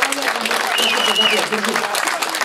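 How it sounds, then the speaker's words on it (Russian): Audience applause at a staged entertainment show, a dense, steady roar of many hands clapping that holds at an even, fairly loud level throughout with a faint murmur of crowd voices underneath. "Аплодисменты,"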